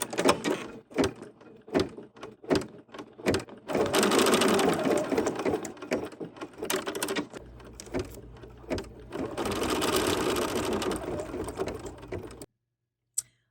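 An embroidery machine stitches a placement line during sampler hooping, with rapid mechanical needle chatter in two sustained runs separated by softer handling taps and clicks, ending abruptly.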